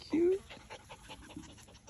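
A puppy pants in quick, soft rhythmic breaths close by, with a brief voice at the start and quiet backyard surroundings.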